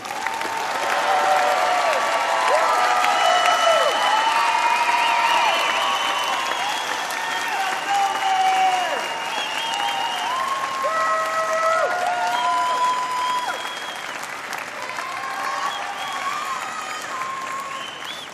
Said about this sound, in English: Let's have a final round of applause for all our 2022 graduates.